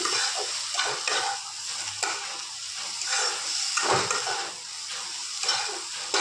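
Ground spices (salt, turmeric, chilli, cumin and coriander powder) are stir-fried in oil for a bhola fish kaliya curry, with a soft sizzle under repeated rhythmic scrapes of a spoon across the pan, close and alone.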